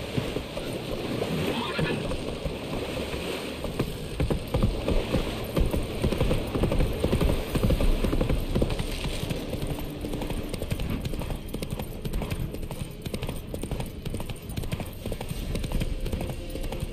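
Roach the horse from The Witcher 3 gallops with a dense, continuous clatter of hooves up close, mixed with rustling movement and game ambience, and no clear talking.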